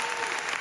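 A short burst of clapping used as a sound effect, dense and steady with a crowd-like texture, lasting under a second at moderate volume.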